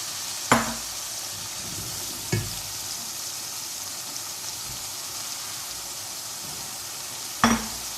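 Masala frying in a pan for aloo tahari, a steady soft sizzle throughout with three sharp utensil knocks against the pan, no voices.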